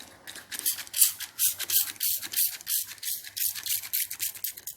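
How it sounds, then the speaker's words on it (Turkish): Homemade two-ingredient cleaning mixture spritzed from a spray bottle onto a kitchen cabinet, producing a quick run of close, crisp hissing bursts with a light trigger clicking in a steady rhythm, no talking. "Şişeme hazırladığım iki karışımı bu şekilde sıkıyorum."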